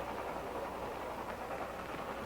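A train rolls around a bend, heard as a continuous dense rumble and rattle of rail noise at steady loudness with no pauses.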